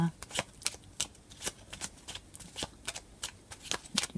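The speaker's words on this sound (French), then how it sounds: "Alors, on va tirer une dernière carte." Oracle cards being shuffled by hand during a tarot-style reading, a close series of quick riffling snaps and soft slaps in an uneven rhythm, with no speech over them.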